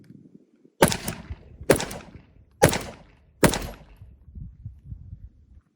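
A Sig P365 pistol with a stock XL slide fires four evenly spaced 124 grain rounds outdoors, each shot a sharp, loud crack followed by a short decay, with quiet background between them.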